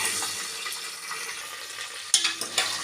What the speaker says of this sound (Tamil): வெங்காயத்தை போட்டு நல்லா வதக்கிக்கலாம்